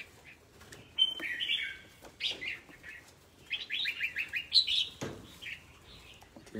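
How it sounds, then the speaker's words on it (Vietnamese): Several small birds chirp and tweet in bursts, some close and fairly loud, with short trills and a brief flutter of wings, against a quiet background. "Chim to lắm."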